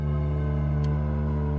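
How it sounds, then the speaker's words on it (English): An Elements modal synthesizer module in a Eurorack modular setup drones with dense, buzzy sustained harmonics and a brief bright shimmer near the middle; continuous and loud, no talk. "so like all those funny noises you can hear are the elements"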